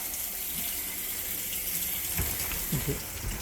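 A stainless wide kitchen faucet sprays water into a sink as a steady, broadband rush throughout, with a few faint knocks near the end.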